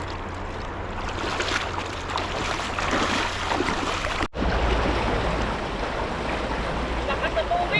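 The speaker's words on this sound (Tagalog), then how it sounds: "Lakas na tubig" Strong river current rushing loudly and steadily, with broadband flowing-water noise close by and a brief dropout midway; a voice can be faintly heard over the torrent.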